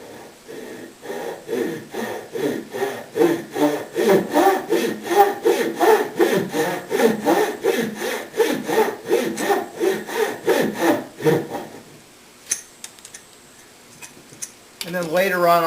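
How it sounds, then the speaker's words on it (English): Fine-toothed Japanese pull saw cutting the waist off a wooden tenon: steady, rhythmic rasping strokes, close and fairly loud, for about twelve seconds, then stopping, followed by a few quieter handling sounds. "I'll be using my Japanese pull saw, very fine tooth, very straight, to cut the waist off."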